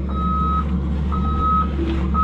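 Heavy equipment being loaded onto or off a trailer sounds a steady reversing alarm, three evenly spaced loud electronic beeps over a low idling diesel rumble.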